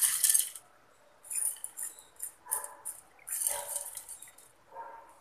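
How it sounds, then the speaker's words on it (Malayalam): Green gram poured into a clay pot, bursts of dry clinking rattle in several short pours separated by pauses, close and crisp, with no voices. "നമുക്ക് ഈ ചട്ടിയിലേക്ക് ഈ ചെറുപയർ ഇട്ട് കൊടുക്കാം"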